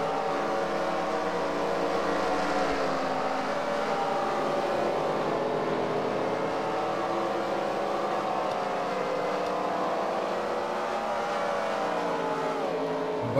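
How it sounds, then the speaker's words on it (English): A pack of race cars in a racing video game pulls off pit road together, a steady dense engine drone with overlapping revs and shifting pitches, loud and continuous with no voices. "It's just a bunch of cars coming off pit road."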